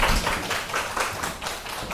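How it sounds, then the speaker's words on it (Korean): Audience applause welcoming a professor's lecture on fisheries and aquatic life in Daegu: a short burst of close, rhythmic clapping, even and moderately loud. "큰 박수 부탁드립니다."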